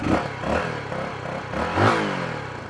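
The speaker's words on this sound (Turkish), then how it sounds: "Hemen egzoz sesine bakalım." A CF Moto NK250 250cc motorcycle idling with a low, steady stock exhaust rumble and a couple of slight rises in throttle, close up.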